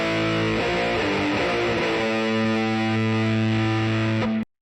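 An electric guitar runs through Quad Cortex distortion with gain set at 5, a few strummed chords then a sustained ringing chord cut off abruptly at the end, loud and alone.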